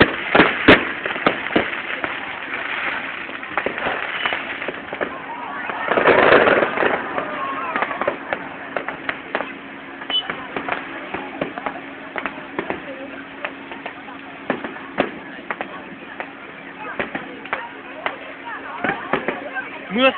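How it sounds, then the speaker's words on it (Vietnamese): Fireworks at the opening of the 2012 Da Lat flower festival crackle and pop continuously, with sharp bursts and a louder boom near the middle, while people chatter nearby. "Mưa pháo hoa."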